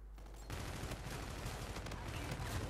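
Sustained rapid machine gun fire from the shooter game Call of Duty: Infinite Warfare beta, a dense continuous burst starting after a brief quiet moment and running steadily to the end.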